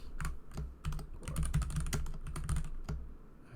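Close, quick typing on a computer keyboard, bursts of clacky keystrokes with short pauses between runs and no voices.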